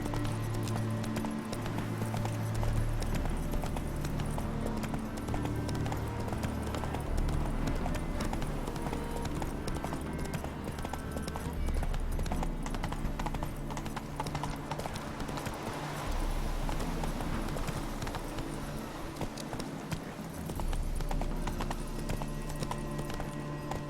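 Hooves of a horse in the video game The Witcher 3 clip-clop in a steady, continuous rhythm, loud and close, over a low game soundscape for the whole stretch.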